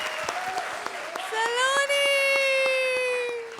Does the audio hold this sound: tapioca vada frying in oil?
no